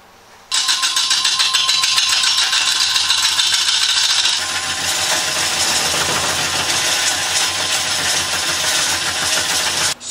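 A wood lathe spins a bowl blank mounted between centers, starting with a sudden loud burst, then a steady motor hum with a rhythmic rattle. It continues for about ten seconds and cuts off at the end.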